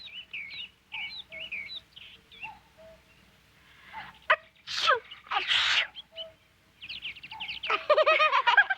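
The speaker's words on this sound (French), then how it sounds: "Atchou!" A cartoon character sneezes during a forest picnic, a sharp breathy burst in the middle of the clip, surrounded by chirping birdsong.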